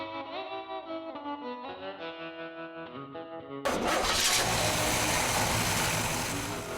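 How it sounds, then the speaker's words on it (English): An Oldsmobile Dynamic 88 with a 371 cubic inch Rocket V8 bursts into life midway, the loud broadband engine roar following a stretch of tonal music and holding steady to the end. "powered by the same 371 cubic inch rocket V8 that was carried over from the 57-58 models"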